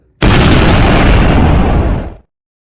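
A goblin grenade explosion effect for a tabletop role-playing game bursts in suddenly and loudly, a dense roaring blast that holds for about two seconds before cutting off into silence.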